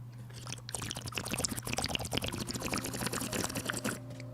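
Water is poured into a glass for a drink, a close, bubbling gurgle that rises and holds for a few seconds before stopping abruptly, with no talking.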